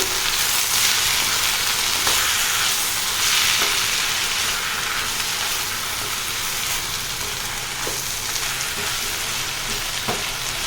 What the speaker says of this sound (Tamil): புதினா சுருங்கி வர அளவுக்கு நம்ம வதக்கினா போதும்